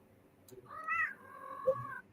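A seal point cat gives one drawn-out, rising-then-falling meow up close, followed by a brief softer chirp, with quiet indoor background around it.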